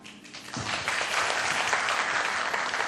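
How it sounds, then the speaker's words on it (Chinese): An audience at a panel discussion bursts into loud, sustained clapping that swells quickly and holds steady to the end. "请大家给最热烈的掌声"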